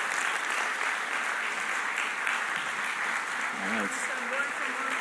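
An audience applauds steadily as a student team from Delft is welcomed onto the stage at a Mars habitat reveal event, dense clapping throughout with someone briefly speaking over it.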